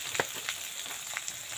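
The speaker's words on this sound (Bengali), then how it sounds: "দিয়ে দিন হচ্ছে শুটকি মাছ, এটা ভালোভাবে কিন্তু এইভাবে কিন্তু নাড়াচাড়া করে নিন" Dried fish stirred and frying in a pan gives a low, steady sizzle with a few soft scraping strokes of the spoon, fairly faint and without any voices.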